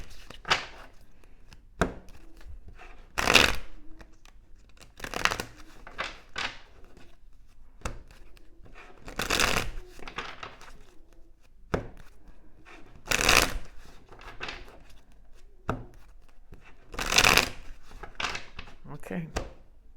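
Tarot cards being shuffled in loose bursts of crisp riffling and slapping, with several louder card bursts spread out between quieter handling and occasional speech.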